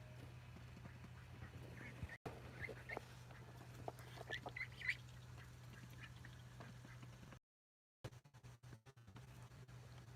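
Baby ducks at their new pond give faint, scattered high peeps and quacks over a low steady hum, with a brief dropout near the end.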